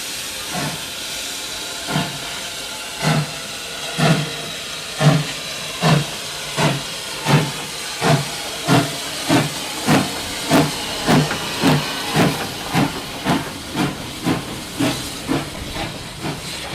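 A steam train departing a station, with rhythmic chuffing hisses of steam that start spaced apart and quicken into a steady regular beat, loud and close.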